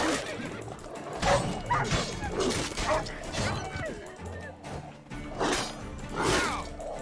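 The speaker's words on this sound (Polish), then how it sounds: "To jest pies po prostu, myślałem, że to jest coś innego." A dog barks in The Witcher 3 video game, letting out several sharp barks and yips at uneven intervals over busy in-game background noise.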